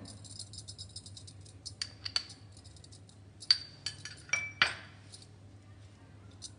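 A spoon clinks and scrapes against a metal bowl while spices are stirred into a paneer tikka marinade with Kashmiri red chili and lemon juice, giving irregular sharp taps over quiet background hum.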